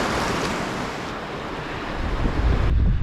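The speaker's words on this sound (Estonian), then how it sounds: "Nii, veits tuuline on." Steady wind roars and buffets the microphone at the seaside in Australia, a constant broadband rush with surf-like texture that grows heavier and rumbles toward the end, no voices.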